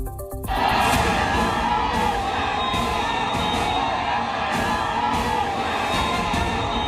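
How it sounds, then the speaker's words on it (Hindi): Large crowd gathered outdoors for Friday prayers near an Eidgah, a loud, dense wall of many voices shouting and calling out together that stays steady throughout. "आज जुमे की नमाज पर वहां भीड़ इकट्ठा हुई"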